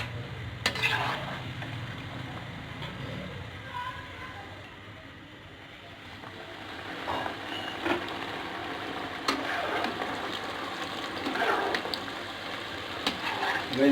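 Namak pare frying in hot oil, stirred with a spoon in a pan, giving a soft continuous sizzle broken by occasional light clinks and scrapes, heard close up at low volume with a brief voice near the end.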